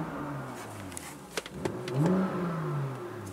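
A 2018 BMW M2 facelift's engine is revved: a steady idle rumble swells into a rising rev and then settles again, heard close and fairly loud with no talk over it.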